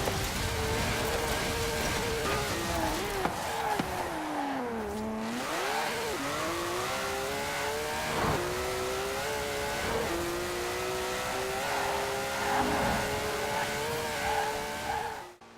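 A 1,200-horsepower sports car in Forza Horizon 4 accelerates hard, its loud engine note climbing through gears with a dip and rise around a shift and tire noise underneath.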